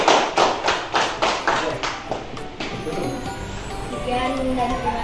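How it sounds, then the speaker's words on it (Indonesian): A class applauds group 3 during a teaching performance session in Banda Aceh, with several loud, distinct claps at first that soften into scattered clapping and murmuring voices. "Beri tepuk tangan untuk kelompok 3."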